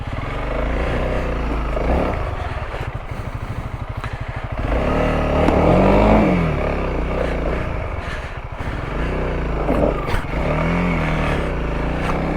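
A Honda CRF300L dual-sport motorcycle climbs a steep off-road obstacle, its engine chugging at low revs, then surging in bursts of throttle with clatter and scraping as the front tire mounts the ledge.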